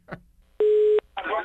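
A single steady telephone line tone lasts about half a second during a prank call, set between brief bursts of nearby talk.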